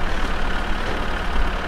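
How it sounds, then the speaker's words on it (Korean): A rough old car engine in the driving game My Summer Car drones steadily, a loud, close, low rumbling hum that stays constant throughout with no talking over it. "어디 똥차 소리 나는데"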